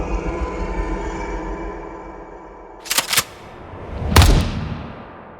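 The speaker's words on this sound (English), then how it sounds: "A shot rang out across the attic" Two sharp gunshot cracks ring out in an attic, the first a quick double report and the second a louder blast trailing off, after a fading low rumble and with no voices.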